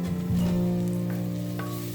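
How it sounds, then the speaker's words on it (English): Sliced onions sauté in a pan for mutton biryani with green chilies, giving a steady close sizzle throughout with no talking. "Add the sliced onions."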